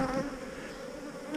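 Honey bees in a nuc hive hum with a soft, steady buzz at close range, with a faint drone running throughout and no voices.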